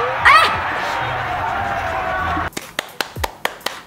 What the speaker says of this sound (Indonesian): Dikasih tepuk tangan dia.